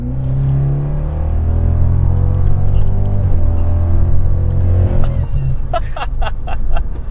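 BMW 650i Gran Coupe with a twin-turbo V8 tuned to about 600 horsepower, heard from inside as it accelerates hard, a loud rising engine drone climbing through the revs, then a shift and brief clatter near the end.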